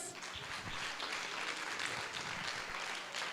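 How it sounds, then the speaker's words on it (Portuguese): Steady applause from a church congregation fills a worship service, broad clapping sustained evenly and fairly near without a break. "Vamos aplaudir a Deus?"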